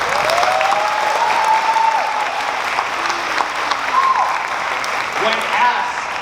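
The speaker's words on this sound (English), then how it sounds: "help me giving a nice round of applause" A crowd claps steadily for several seconds at a graduation ceremony, dense applause filling the room while faint whistles or cheers rise briefly above it.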